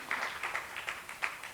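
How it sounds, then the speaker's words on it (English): A small audience claps for a presenting group at an academic annual meeting, a modest, fairly faint patter of hands lasting a moment in a conference room. "So let's clap for group 1"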